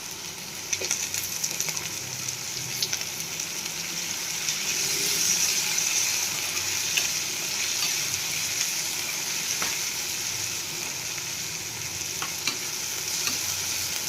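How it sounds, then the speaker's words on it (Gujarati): Okra with salt and turmeric cooks in a pan, a continuous close sizzle with soft scraping stirs and small pops running steadily for the whole stretch, no voices. "હવે આને હલાવતા જઈ એકદમ સરસ ચીકાશ દૂર થાય ત્યાં સુધી આપણે આને પકાવી લેશું"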